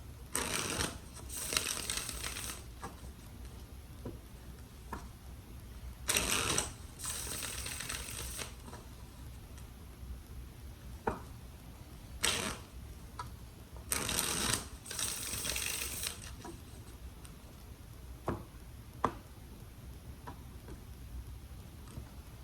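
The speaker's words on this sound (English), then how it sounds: "Do 3 more shuffles." Tarot cards are shuffled in quick riffling bursts, repeated several times with quiet pauses and soft taps between them, close and fairly faint.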